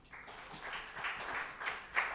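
Scattered, faint applause from a crowd, uneven clapping that swells and fades a few times, distant and fairly quiet.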